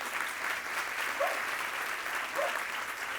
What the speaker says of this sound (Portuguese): Palmas para Lelê Siqueira, maravilhoso